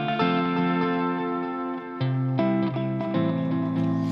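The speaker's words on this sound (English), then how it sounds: "you can use any delay that's capable of doing a ping pong delay" Electric guitar chords played through a ping pong delay, shifting chord changes ringing on with bouncing repeats and a distorted, effects-heavy tone; loud, close and continuous with no talking.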